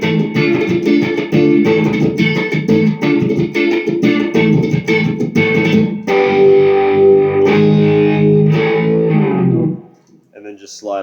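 Electric guitar riff, loud and distorted, strummed in a steady choppy rhythm before settling into a sustained overdriven chord that rings out and cuts off near the end.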